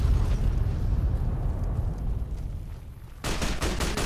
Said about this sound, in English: Did a bomb just go off?